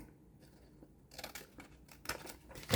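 Scissors snip through a folded paper book page, a few crisp close cuts with a faint rustle of paper, growing louder toward the end in a quiet room.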